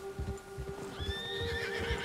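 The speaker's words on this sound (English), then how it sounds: "Calm down, horse." A horse in the Red Dead Redemption 2 video game gives a drawn-out neigh over soft clip-clop hoofbeats, fairly close and moderately loud, with no talking.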